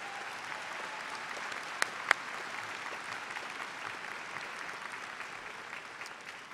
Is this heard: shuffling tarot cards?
no